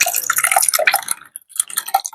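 Tamarind water is poured into a cooking pot for rasam, loud close splashing and dripping in uneven bursts with a short pause midway, and no voices.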